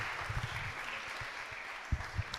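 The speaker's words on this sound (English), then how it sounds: "Can we give them a louder round of applause?" An audience at a college research day session applauds, a dense, faint wash of many hands with a few low thumps from the room.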